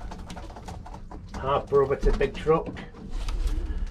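Breeding racing pigeons make low, rolling coos in the loft while they feed young birds, with someone speaking over them partway through.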